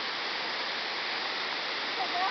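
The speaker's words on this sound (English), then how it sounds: "How do you like the waterfalls of West Virginia?" Hawks Nest waterfalls in West Virginia roar in a steady, loud, unbroken wash of falling water close by, with no talk over it.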